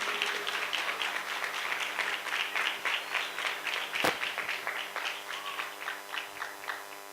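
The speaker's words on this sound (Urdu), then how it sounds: "زوردار تالیاں عزیزو۔" A church congregation claps to welcome a pastor, moderately loud applause that settles into a rhythmic, pulsing beat, with one sharp louder clap partway through.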